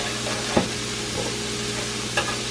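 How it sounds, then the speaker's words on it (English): Seasoning stirred in a frying pan makes a soft, even sizzle, with two brief clinks from the stirring. "putting in the seasoning, and I'm stirring"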